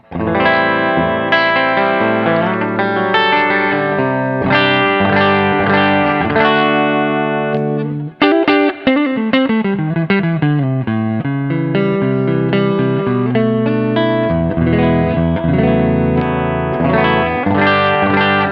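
Overdriven electric guitar through an Overdrive Special tube amp, loud and sustained, playing chords and riffs with a warm, gritty distortion and a brief pause midway.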